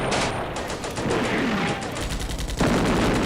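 Gunfire crackles through a World War II battle in the strategy game Combat Mission: Beyond Overlord, a dense rolling fusillade of distant shots blending into a continuous rumble with no voices.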